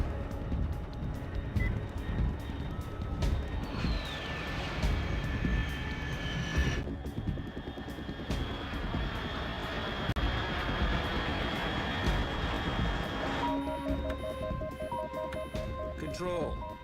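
Aircraft engine drone in the Metal Gear Solid 3 video game: a steady, rumbling roar fills the scene throughout, with faint tonal whines and electronic beeps layered over it near the end.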